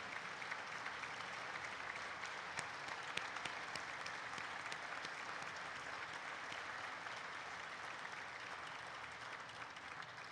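Steady, dense applause from an awards dinner crowd as honorees stand at an Ole Miss Women's Council event honoring Robert Khayat, a continuous even wash of many hands clapping at a distance without pause.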